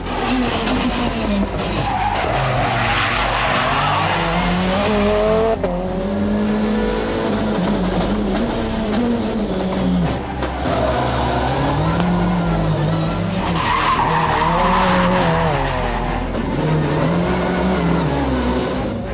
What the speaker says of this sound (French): C'est une 4 roues motrices dotée d'un moteur turbo